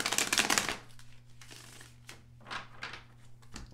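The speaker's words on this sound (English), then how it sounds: "Feel the need to shuffle again." A quick burst of tarot cards being riffled and shuffled, followed by softer shuffling rustles and light taps at close range.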